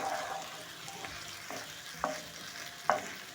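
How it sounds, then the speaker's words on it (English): Onions cook until soft in a pan for sautéed cabbage, giving a quiet steady sizzle with a few sharp spatula clicks against the pan, close up and without talk. "As my onions are cooking,"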